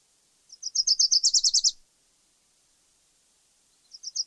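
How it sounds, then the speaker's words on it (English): A warbler sings a fast, high trill of about a dozen quick notes, close and clear, then falls silent before a second trill starts at the end. "So it's basically a fast trill"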